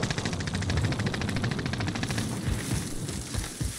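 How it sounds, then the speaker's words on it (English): Call of Duty Modern Warfare 2019 gunfire in a gas-closing battle royale match, dense continuous automatic fire that rattles steadily, then gives way to scattered heavier shots and booms toward the end. "They're shooting from the left."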